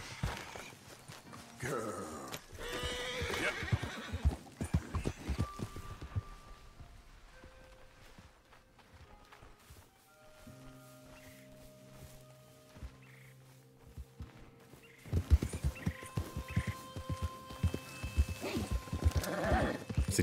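A horse whinnies and hooves clop along in the video game Red Dead Redemption 2, fading into a quieter stretch with tonal game sounds before the hoofbeats and snorting return.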